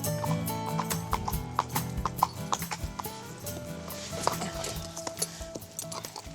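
Hooves clip-clop in a quick, irregular rhythm on a hard surface, with metallic clinks and rattling in the background.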